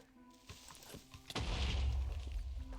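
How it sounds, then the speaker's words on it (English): An explosion goes off in a Minecraft-style video game, a sudden sharp crack followed by a deep rumbling boom that lingers, preceded by a few small clicks and thumps, with no talking. "whew, that was an explosion"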